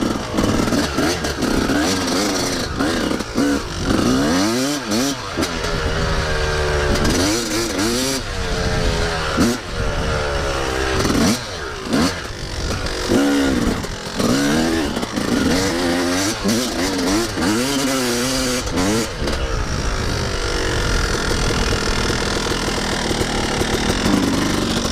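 A Yamaha YZ250 two-stroke dirt bike doing burnouts, its engine revving hard and continuously with rising and falling pitch sweeps from repeated throttle blips, loud and close throughout.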